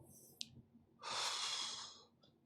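A single close, slow breath out lasts about a second, soft and airy, preceded by a faint click in a quiet room.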